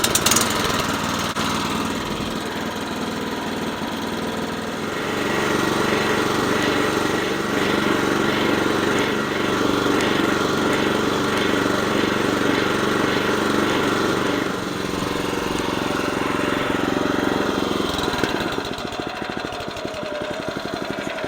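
A California Trimmer Catalyst reel mower's small engine runs steadily at moderate throttle, a continuous close mechanical drone that builds after startup and holds for most of the stretch before easing near the end.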